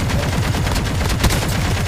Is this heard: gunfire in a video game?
yes